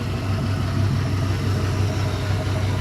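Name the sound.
LM7 5.3L LS engine with LS1 cam running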